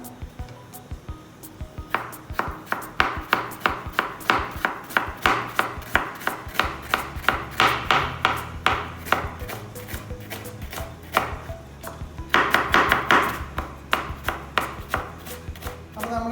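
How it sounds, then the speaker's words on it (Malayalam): Rapid, steady knife chopping of onions on a cutting board, many quick close taps in a continuous rhythm with a brief pause before resuming. "സവാള നമ്മൾ നൈസായിട്ട് ഇങ്ങനെ അരിഞ്ഞെടുക്കണം അപ്പോൾ നമുക്കത് അരിഞ്ഞെടുക്കാം"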